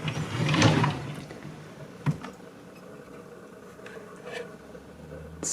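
A craft-supply drawer slides open with a rumbling scrape lasting under a second, followed by a sharp knock and a few faint clicks and rustles as things settle, close by.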